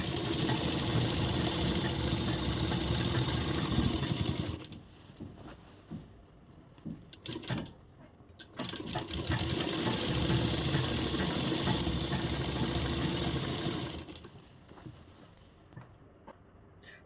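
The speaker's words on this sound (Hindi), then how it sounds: "अब पूरे में हम सेम इसी तरह सिलाई लगा लेते हैं।" A sewing machine stitches elastic onto a palazzo in long continuous runs, a steady close mechanical whir that stops twice for short pauses.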